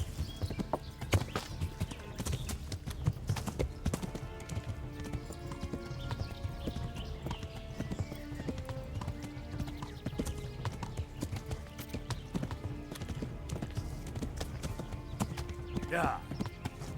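Horse hooves clip-clop at a steady run in the Kingdom Come Deliverance video game, a continuous rhythmic pounding under game music with a brief whinny near the end.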